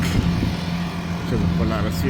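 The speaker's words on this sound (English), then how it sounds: "That's the garbage truck" A garbage truck drives past on a long island road, its low engine droning and rumbling steadily nearby while a person talks over it.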